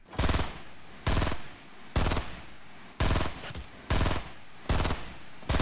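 Loud, close gunshots in the video game Fortnite during a battle royale fight at Tilted Towers, seven sharp single blasts spaced roughly a second apart, each trailing off in a short echo.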